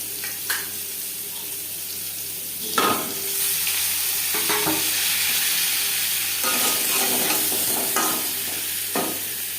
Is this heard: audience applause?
no